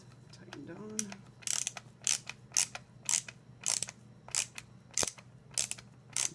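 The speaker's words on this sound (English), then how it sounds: "Ratcheting screwdriver to help save your wrists." A ratcheting screwdriver tightens the head back onto a Blythe doll, giving a steady series of close, crisp clicking bursts about twice a second, with a brief faint squeak near the start.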